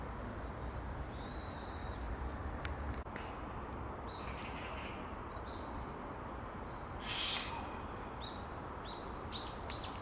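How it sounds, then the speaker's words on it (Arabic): Several birds call and chirp from different distances over a steady hiss of insects and ambient noise in a Korean forest, with one louder call standing out midway. "اسمع اصوات الطيور من كل اتجاه"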